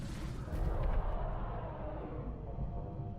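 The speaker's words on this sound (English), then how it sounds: "The rift explosion is really strong, especially against like the sector pods" A rift explosion from the video game XCOM Enemy Within erupts as a sustained, heavy rumbling blast that rolls on for several seconds, loud and dense with no voices.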